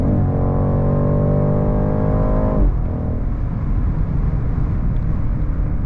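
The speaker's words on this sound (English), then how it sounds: "Full throttle again." A BMW X7 M60i SUV engine pulls hard at full throttle, a loud, steady harmonic drone that climbs, then drops abruptly into a rough, broadband rumble after a shift or lift-off.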